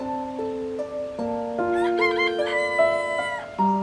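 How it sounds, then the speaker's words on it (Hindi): A rooster crows loudly and close by, a stretched cock-a-doodle-doo with harmonic calls, in a dubbed Turkish TV drama scene. "वाह, मुर्गे की आवाज"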